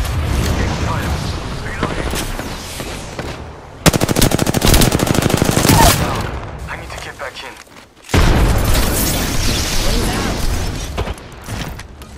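Automatic weapons fire in a shooter game: loud, rapid bursts that rattle continuously, then break off in a brief quiet gap before heavy shooting resumes.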